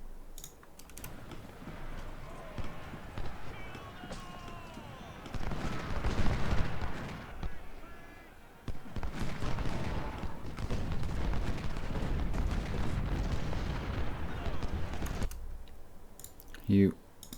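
Musket volleys and artillery fire in the Civil War strategy game Ultimate General at the Battle of Gaines' Mill, dense rattling bursts in long waves, with someone talking over parts of it.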